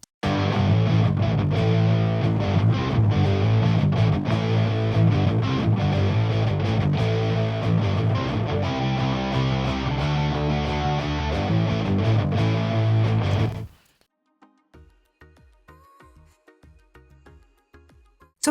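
Distorted electric guitars with EQ applied play a dense, loud rock passage, then cut off abruptly, leaving faint sparse plucked notes.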